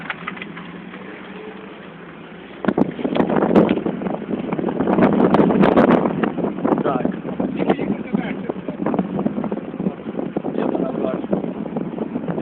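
Wind rushes through an open car window while driving in winter in Moscow, a steady roaring hiss that swells suddenly as the window opens and continues under loud, frequent talking.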